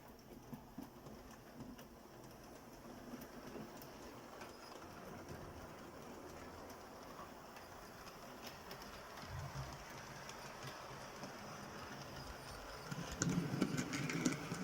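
A model railway train runs around its track at a steady low rumble with faint clickety-clack, growing a little louder toward the end as it passes closer, with no talking.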